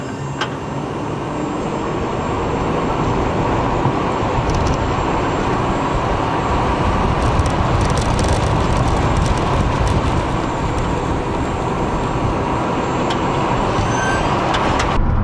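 A Lamborghini Revuelto at full throttle in electric mode makes a loud, steady whine and rushing hum from inside the cabin, with road and tyre roar building and holding throughout.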